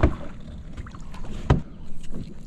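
A large pedal fishing kayak is dragged off the shore into the water, with a hard scraping thump at the start and another midway and a soft hull scrape between them, close by, with light wind and no talk.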